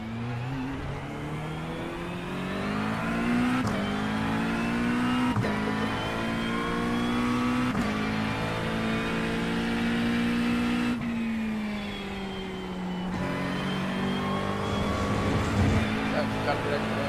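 Porsche engine in a racing video game, a steady revving drone that rises and dips through gear changes for the whole stretch, loud and continuous with someone talking over it.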